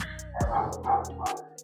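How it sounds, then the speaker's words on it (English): Dogs let out three quick, fairly close barks in a row, with faint clicking sounds in the background. "I'm sorry for the noise. Those are my dogs."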